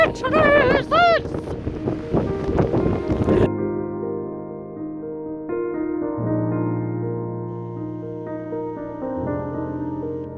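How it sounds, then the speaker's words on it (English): Blustery wind outdoors in Scotland buffets the microphone with rough gusts for about three seconds, then cuts off abruptly as steady music takes over. "It's a bit windy."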